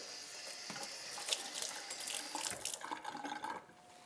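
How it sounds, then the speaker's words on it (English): Water runs steadily from a kitchen tap as a placemat is rinsed under it in the sink, splashing and spattering close by for about four seconds before the flow cuts off. "I'm also going to rinse my placemat really quickly"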